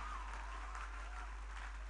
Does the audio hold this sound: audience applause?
yes